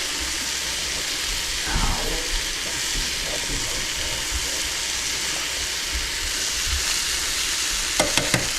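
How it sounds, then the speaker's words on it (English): Noodles are pushed under and stirred in a pot of water for chicken Alfredo, with a steady bubbling hiss throughout and a few quick metallic clinks near the end, no talk. "I'm also gonna dunk down these noodles just so that everybody's fully submerged, and I'll stir those."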